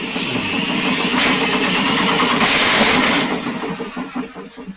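An engine turned over by hand with a tool on the crank, a steady mechanical whirring and rattling that holds for a few seconds, then fades to uneven clanks near the end.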